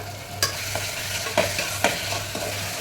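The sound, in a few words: sautéing tomatoes, green chilies, coriander and mint in a pan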